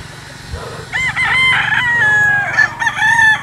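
A gamefowl rooster crows loudly and close by in a backyard farm setting, one long, wavering cock-a-doodle-doo that fills most of the clip, with faint clucking before it.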